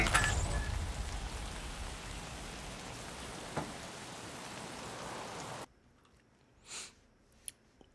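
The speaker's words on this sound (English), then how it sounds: "Rain." Steady rain in the video game Escape From Tarkov patters loudly for several seconds, then cuts out abruptly, leaving near silence with a couple of faint clicks.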